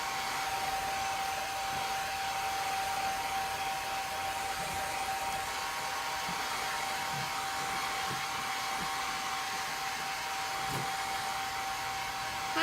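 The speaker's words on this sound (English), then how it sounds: "So I'm just going to dry this a little bit before I go on" A hair dryer blows steadily and continuously up close to dry a chalk couture craft project, producing a constant even whoosh with a faint whine and no pauses.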